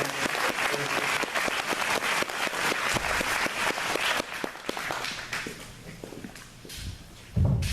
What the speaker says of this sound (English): A round of applause for Sheriff Mack